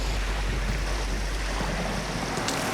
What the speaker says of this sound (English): The wind is picking up, and the water's getting really choppy.